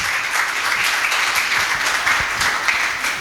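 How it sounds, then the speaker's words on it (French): An audience at a literary event gives steady, dense applause, loud and continuous throughout with no speech over it. "On applaudit."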